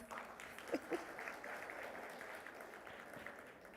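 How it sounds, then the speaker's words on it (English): Light, scattered clapping from a small group, fairly soft and distant, with a couple of sharper claps early on. "Can you guys give yourself a round of applause?"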